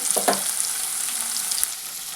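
Chillies, garlic cloves, cumin, mustard seeds, turmeric and tamarind frying in oil for a bitter gourd curry, giving a steady close sizzle with a couple of brief stirring scrapes near the start.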